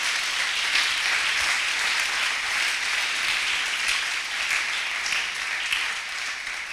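A church congregation applauding: steady, dense clapping from a large crowd, sustained and even throughout at moderate loudness, with no speech over it.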